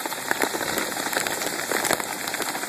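Hail pelts cardboard and the bare ground in a steady, dense patter of small impacts, close and continuous, with no voices.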